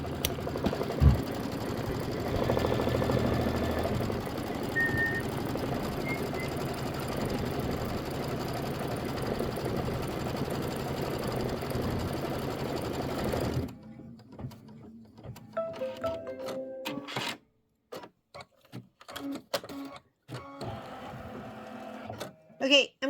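An embroidery machine stitches a redwork design with a steady mechanical whir and rapid needle clatter for a long stretch, then stops, leaving scattered handling clicks and knocks.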